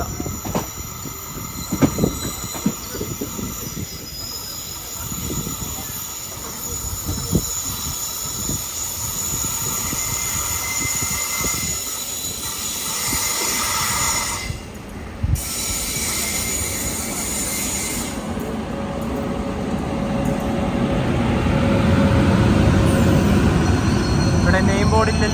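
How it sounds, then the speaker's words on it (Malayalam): The Kochuveli–Yog Nagari Rishikesh express runs through Ernakulam Town railway station without stopping, a loud rolling clatter of wheels with high metallic squeals that builds as the train draws nearer, and the rumble swells toward the end. "ഒരു ട്രെയിൻ അവിടെ നിന്ന് വരുന്നുണ്ട്"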